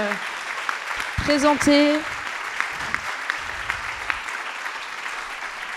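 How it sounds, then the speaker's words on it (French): An audience applauds the participants of a 180-second thesis presentation event in art history and archaeology, a steady roomful of clapping heard under a host speaking in French. "J'aimerais qu'on réapplaudisse encore une fois tous les participants qui sont venus aujourd'hui"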